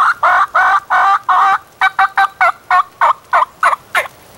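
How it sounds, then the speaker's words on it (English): Wild turkey gobblers call loudly and close, a run of about fourteen rapid, rattling gobbles in quick bursts, the later ones shorter and choppier. "There's two more gobblers, wasn't there?"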